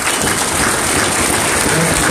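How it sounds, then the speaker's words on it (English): Loud, dense audience applause at an Israelite summit in Atlanta, a continuous wash of many hands clapping close by, filling the whole moment without pause. "let's give Yahweh Bahasham and Mashiach a round of applause"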